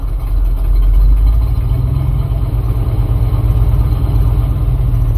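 A car engine idles at low revs, a steady deep rumble with a faint vibrating texture, close by and continuous with no talking; the car refuses to go into park.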